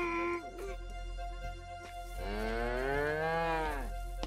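Cows moo in long, loud, drawn-out calls, one short low moo followed by a sustained rising and falling bellow, close by and alone, in a scene of feeding cattle.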